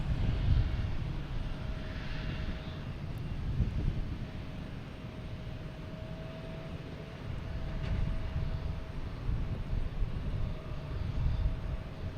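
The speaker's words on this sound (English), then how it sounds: "next to arrive is a Cape Air coming in from Rutland" A Cape Air commuter plane arriving from Rutland at Boston Logan Airport, heard as a steady, fairly distant propeller engine drone with wind noise that holds throughout.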